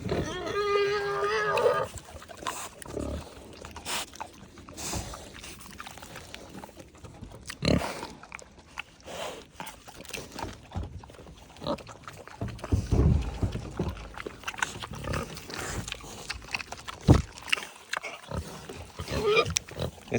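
Pigs at an animal sanctuary eat with their mouths open, giving wet, smacking chewing and snuffling sounds that come and go close by, mixed with soft grunts and some background voices.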